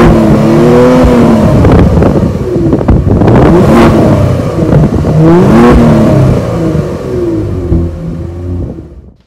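A Kia Stinger's engine accelerates hard and close, rising through the revs in sweeping pulls with brief drops between gears, then fading out at the end.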